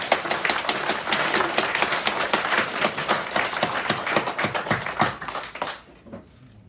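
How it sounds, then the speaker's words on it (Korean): A church congregation claps together after a choir's hymn in a Sunday service, a brisk, steady run of loud, close claps that stops abruptly at the end. "우리 하나님께 영광의 박수 올립니다."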